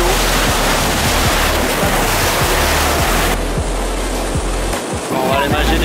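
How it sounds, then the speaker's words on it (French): Lake waves wash steadily against the shore in continuous broadband surf noise, loud and close, with a brief dip near the end and no voices heard. "On dirait qu'on est à la mer quoi. Il y a des vagues."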